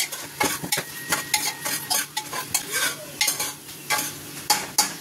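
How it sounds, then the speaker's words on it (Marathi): Rice being sautéed with golden-orange fried onions in a pan, close and fairly loud, with a constant sizzle under rapid, uneven scraping and clinking of a spoon against the pan. "आता राईस मोठा करायचा आणि मस्त परतून घ्यायचा."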